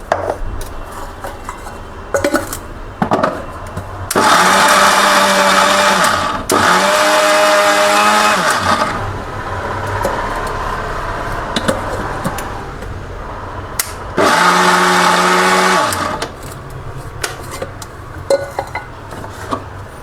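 Mixer grinder blending dry fruits, flaxseed and ghee for laddu, running in two loud bursts of a few seconds each with clattering and handling noises between them.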